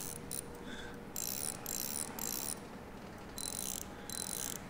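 In Bus Mechanic Simulator, a ratchet loosens a bus part with short bursts of quick, bright clicking, several separate runs broken by brief pauses over a low hum.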